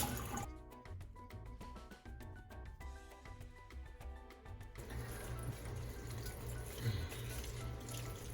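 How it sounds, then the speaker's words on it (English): Cold tap water runs into a kitchen sink to rinse and drain spinach, a steady close rush of water that grows fuller and louder partway through. "I'm just gonna go ahead and drain it with some cold water to start the preparation"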